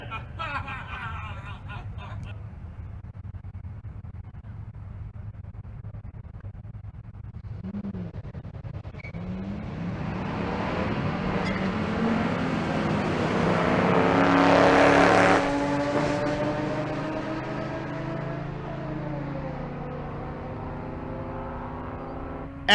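A Mustang fastback at a drag strip during race week at Bandimere, its engine roar building from a low rumble to a loud peak as it launches and passes, then fading, with no talk over it.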